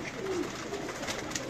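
Pigeons coo softly, with a few low, rounded calls rising out of a quiet, faint background.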